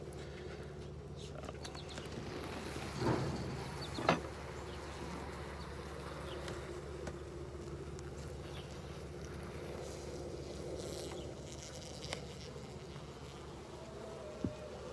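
Honey bees humming in an open top bar hive during a midsummer inspection, a steady low drone that carries on throughout, with faint handling knocks and a couple of brief sharper clicks.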